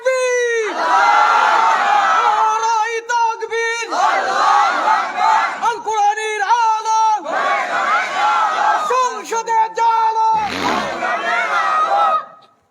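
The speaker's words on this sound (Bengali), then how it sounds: "হুজুর তাকবীর দেন দেখি।" A large crowd at an outdoor Islamic sermon roars the takbir slogan in repeated loud, rhythmic chanted waves, several call-and-response bursts filling the air, then fading out at the end.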